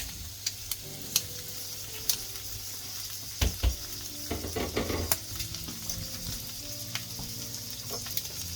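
Prawns sizzling and frying on a griddle alongside monkfish and scallops, a steady crackling hiss with scattered clicks and scraping taps from utensils, no voices.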